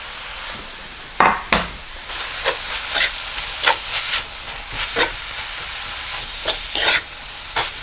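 Kale tossed into a pan of frying rosemary ground beef, sizzling steadily with repeated scraping stirs of a utensil punctuating the hiss, close and fairly loud, no talking.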